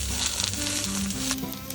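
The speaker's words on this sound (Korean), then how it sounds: "앞뒤로 한 번 더 잘 구워주고" An egg topped with mozzarella cheese sizzles steadily in a hot pan, a continuous close crackle of frying with no one speaking.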